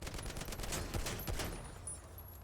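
Rapid video-game gunfire as magazines are emptied into the hood of an old station wagon, a dense crackling burst of automatic shots that rises and falls across a couple of seconds without speech.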